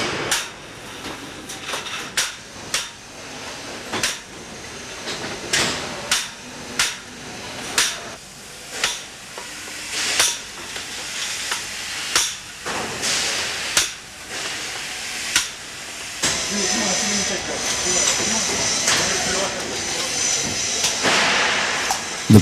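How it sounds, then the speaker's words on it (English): A pneumatic machine flanging the primary tongue of an LNG membrane tank strikes in a steady series of sharp, close, metallic impacts about once a second, giving way to a continuous hissing clatter toward the end. "The primary tongue is stretched out and flanged in this position by making a snug with this pneumatic machine."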